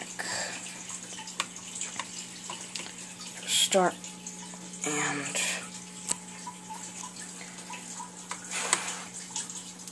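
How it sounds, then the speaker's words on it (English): Gentle water ambience from the Far Cry 3 map editor, a steady watery wash with faint drips running throughout, with someone talking briefly over it. "It's water."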